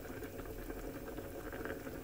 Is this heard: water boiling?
yes